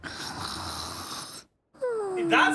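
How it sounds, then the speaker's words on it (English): A person snores, with a long rasping inhale, a short silent pause, then another drawn-out snore rising toward the end, heard alone without talk. "That's what snoring sounds like."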